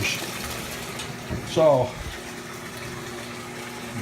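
Warm water fills a Kenmore stacked washer with a steady, close rushing hiss that runs the whole time, and a voice speaks briefly partway through.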